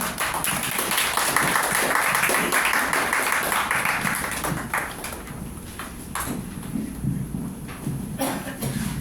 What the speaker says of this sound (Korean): 손뼉으로 맞이하겠습니다